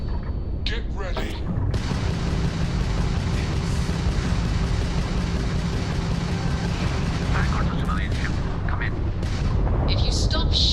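Spaceship weapons in Starfield fire as a steady, heavy barrage of booming blasts and mechanical rumble, loud and continuous, with sharp bursts of impacts near the start and end.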